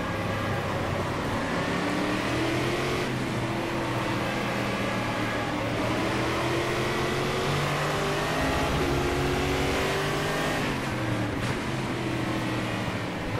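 Simulated Brazilian V8 stock car racing around Interlagos, its loud engine droning steadily with rising and falling revs through gear changes, other cars' engines layered in close, continuous and unbroken throughout.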